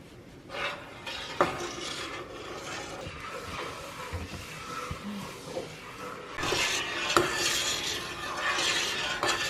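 A flat-edged spoon stirs blackberries in a boiling pot, scraping and clinking steadily with soft bubbling beneath, louder bursts toward the end, no talking.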